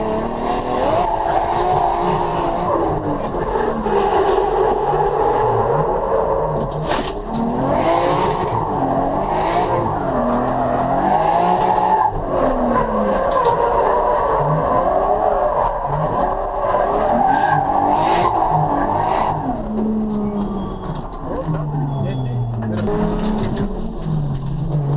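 1JZ-swapped car lapping a race track, engine revving up and down continuously through gear changes with tire noise, loud and close throughout, no talk.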